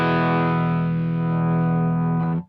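Electric guitar played through an amplifier with overdrive, a single sustained distorted chord ringing loud and steady alone for about two seconds before being cut off abruptly.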